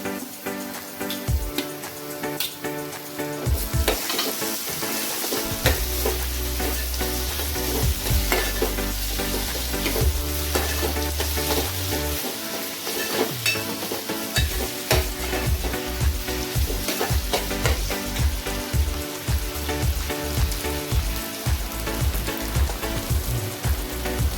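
Onion and tomato fry loudly in a pan, a dense continuous sizzle with repeated scraping and clattering stirs and sharp crackles throughout.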